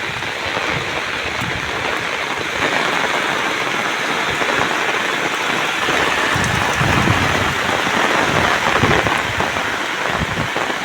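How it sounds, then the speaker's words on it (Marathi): Heavy rain falls on a rice paddy farm in the Konkan, a steady close roar of drops on surfaces with low rumbling swells building midway. "वाढला परत पाऊस."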